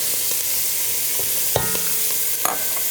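Garlic fries in olive oil in a single pan for a one-pan dinner, a steady close sizzle broken by a couple of sharp utensil clinks.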